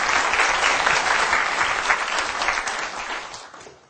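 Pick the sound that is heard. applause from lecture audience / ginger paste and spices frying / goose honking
applause from lecture audience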